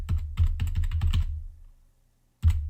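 A password is typed on a computer keyboard during a blog sign-up: a quick run of about ten crisp, close keystrokes, a pause of near silence, then one final firm keypress.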